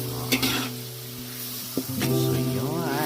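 Onion and garlic sizzling in hot oil as they fry until golden brown, a steady close crackle with a few stirring scrapes and clinks, louder and busier toward the end.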